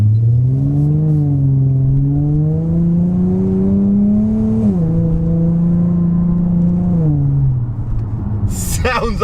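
A Nissan Skyline's engine accelerates while driving, a loud, close droning tone that rises steadily through the gear, dips at a shift, climbs again, then settles.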